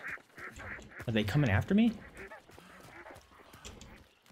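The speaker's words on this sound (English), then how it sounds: "Ah, those ducks are so loud." Ducks quack loudly and harshly in the video game Hunt: Showdown, a burst of overlapping calls that peaks mid-clip, with someone talking over and around them.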